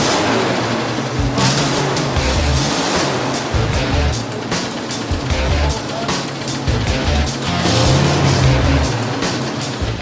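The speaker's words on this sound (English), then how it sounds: "Hopefully the new distributor cap will get the M3 firing. Burst into life." A World War era M3 military vehicle's engine, fitted with a new distributor cap, running steadily with a loud, rough low rumble and uneven firing pulses, with voices faintly under the noise.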